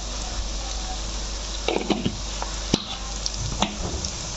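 Duck meat fries with turmeric, coriander powder and biryani masala in a pan, sizzling steadily under a series of sharp scrapes and knocks as it is stirred.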